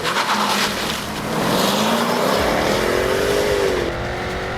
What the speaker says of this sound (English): With the scream of the uncorked exhaust echoing off the cliffs